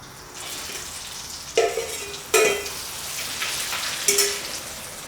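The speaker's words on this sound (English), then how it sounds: "I'm just gonna dump it back into the hot oil. Quick refry to crisp it up." Battered sesame chicken goes back into hot oil for a quick refry, giving a steady crackling sizzle with a few louder bursts of spattering oil and no voices.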